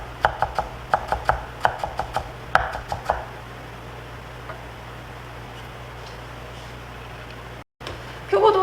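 Shiitake mushrooms being finely julienned with a knife on a cutting board, in a quick run of sharp, evenly spaced chops for a few seconds before the cutting stops and only quiet room tone remains.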